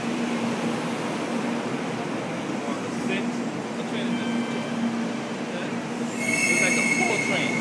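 A Japanese bullet train roars past with a steady rushing rumble, rising near the end with a high metallic squeal over the noise.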